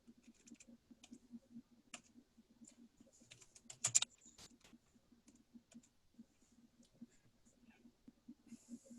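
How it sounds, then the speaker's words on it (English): Typing on a computer keyboard during a live forum session on Propeller 2 microcontroller smart pins, a steady run of quiet close keystroke clicks with one brief louder burst midway, and no voices over it. "So I'm just typing in the line here now."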